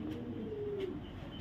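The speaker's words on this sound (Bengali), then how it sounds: "জাস্ট কোয়ালিটি দেখেন কবুতর, টপ থেকে টপ কোয়ালিটির কবুতর" Lahori show king pigeons coo nearby, one soft, drawn-out throaty coo rising over light background noise, with no one talking.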